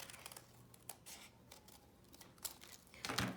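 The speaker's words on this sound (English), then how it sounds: "I'm going to take my scissors and just, cut a shape." Scissors snipping through paper in a few close, crisp cuts, quiet and unhurried with brief pauses between strokes.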